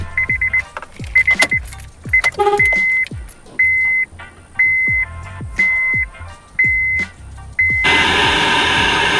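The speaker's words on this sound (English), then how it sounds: "we just gotta turn the car on and see if she comes on" A Honda Fit being switched on after a new radio install: keys jangle, a series of short repeated electronic chimes sound at close range, then a steady hiss of static rises at the end, with no talking.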